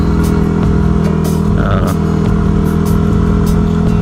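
A dual sport motorcycle engine drones loud and steady while riding along a road, with a constant low rumble, wind roar and occasional clatter throughout.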